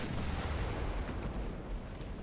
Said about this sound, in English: All guns fire on the heavy cruiser.